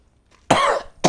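A single loud, harsh cough close to the microphone, a sharp burst followed by a shorter second hack right after, with quiet before it.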